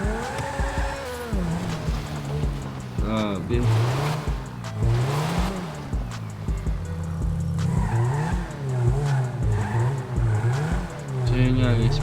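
A Ferrari sports car in GTA 5 roars as its engine revs rise and fall through gear changes, with tire squeals along the way. Someone talks briefly over the steady, loud engine noise.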